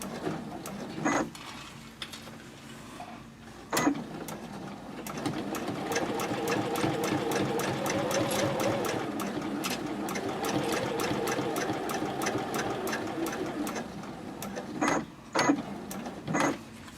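A sewing machine top stitches a Chatelaine purse at a 3.0 stitch length, running in a fast, even burst of stitching. A few isolated mechanical clicks come before and after the burst.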